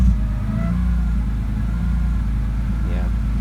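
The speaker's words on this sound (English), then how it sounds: "I'll rev it up a little bit." A BMW E30 fitted with an S54 engine runs with a deep, steady idle rumble and a slight rise in revs near the end, close by, while a person talks over it.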